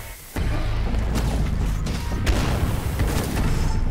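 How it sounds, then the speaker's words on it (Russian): Heavy, booming gunfire from a retro Doom-style shooter called Incision, loud and sustained with repeated blasts and crashing impacts over a dense rumbling bed. "у них тут выстрелы такие мощные"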